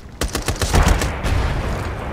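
Gunfire from the World War II shooter Brothers in Arms: a burst of several sharp shots over about two seconds, loud and close, with a sustained rumble of fusillade continuing behind them.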